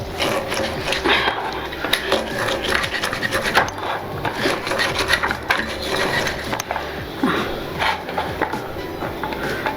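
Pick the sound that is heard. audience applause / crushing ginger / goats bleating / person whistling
crushing ginger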